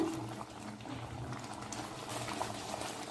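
A pan of palak paneer gravy simmering on the stove, a quiet, continuous bubbling with soft pops, close and alone.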